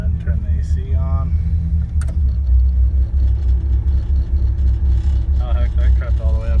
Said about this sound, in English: Hopefully it fires right up.